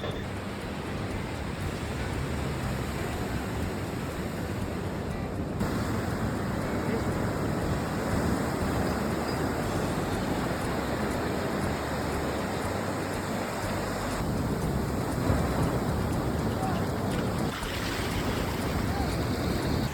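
Steady wash of ocean surf at Kovalam Beach, Kerala, with wind noise across the microphone, continuous and fairly close, with no talking.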